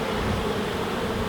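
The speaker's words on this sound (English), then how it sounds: "Look at the whole frame of bees that we've got." Honey bees covering a hive frame during a UK hive inspection give off a steady, close buzzing hum that holds evenly throughout, with no voices present.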